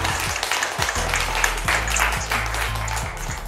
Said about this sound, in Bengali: আরো জোরে হাততালি হয়ে যাক।